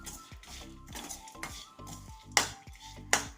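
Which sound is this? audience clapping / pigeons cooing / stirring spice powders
stirring spice powders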